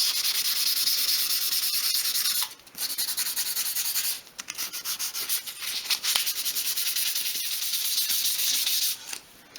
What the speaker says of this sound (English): I'm sort of sanding each piece at a time